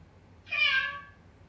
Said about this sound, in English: Still cats.